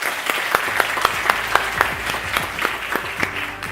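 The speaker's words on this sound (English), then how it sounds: "Ladies and gentlemen, a round of applause for Charlie." Conference audience applauding a keynote speaker, a mid-sized crowd clapping with some distinct sharp claps standing out, steady and fairly close, while a faint voice murmurs underneath.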